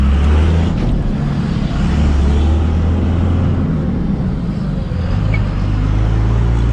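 A 2001 Dodge Ram 2500 Cummins diesel with a six-speed manual drives along, heard from inside as a steady, loud low drone of engine and road rumble with no speech.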